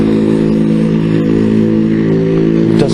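A loud motorbike engine revs steadily close by, with a deep throbbing drone and a rough mechanical rattle that continues without a break and swells slightly near the end.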